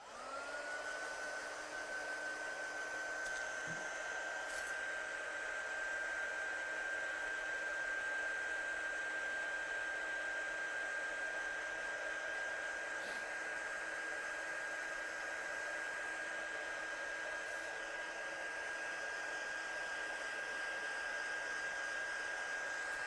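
A hair dryer blowing on wet watercolour paint, a steady close-up whine and rushing air that holds a constant pitch throughout, with no talking.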